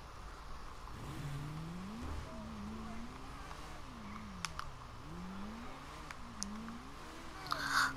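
Motorbike engine in the video game Grand Theft Auto V, a stock bike droning and revving up and down in a wavering pitch throughout, moderately quiet, with some faint clicks.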